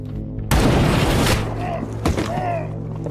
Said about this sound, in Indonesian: Sniper misterius itu menembakkan satu persatu dengan cepat